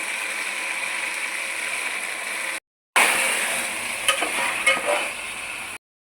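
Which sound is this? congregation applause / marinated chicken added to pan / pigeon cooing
marinated chicken added to pan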